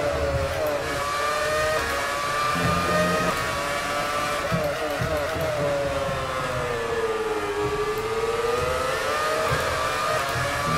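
Formula One car engine in F1 2018 on Xbox One, a loud steady high-revving whine rising and falling in pitch as the car accelerates through corners, continuous with no talk.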